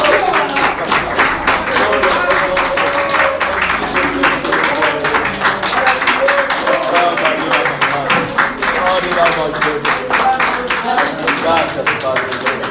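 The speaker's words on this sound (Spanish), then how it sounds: "Dele un fuerte aplauso al Señor" A church congregation applauding the Lord during a service: loud, dense, sustained clapping throughout, with voices mixed in under it.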